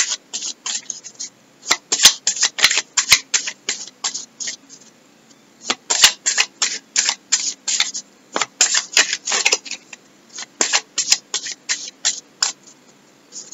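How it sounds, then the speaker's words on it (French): A deck of Oracle of the Sea cards is shuffled by hand in repeated quick bursts of riffling, close and crisp, broken by brief pauses and with no talking. "Donc je vais vous tirer une carte pour vous donner une indication là aussi."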